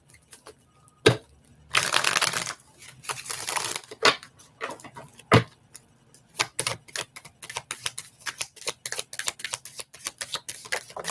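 Tarot cards are shuffled by hand in irregular bursts, with sharp snaps, riffles and soft slaps of the deck, close and fairly loud, with quiet pauses between.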